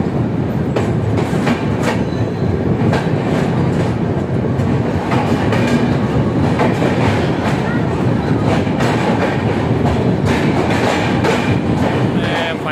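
A train pulls into platform 3 at Haridwar railway station, wheels clattering and rumbling steadily with clickety-clack over rail joints, loud and close, with a voice speaking faintly over the noise.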